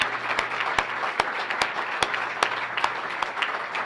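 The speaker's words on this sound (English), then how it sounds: "Please give her a round of applause." A university audience gives a sustained round of applause, a thick even wash of clapping with a few sharper nearby claps popping out, continuing steadily with no speech over it.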